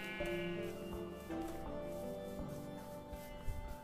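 Sheep bleating in the Minecraft video game, a few wavering bleats heard amid game background music and effects, fairly faint.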